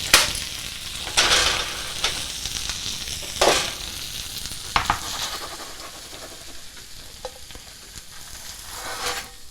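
A quesadilla with melted cheese sizzles and fries in a pan on a stovetop burner, a steady hiss throughout with several scraping stirs and spatula scuffs.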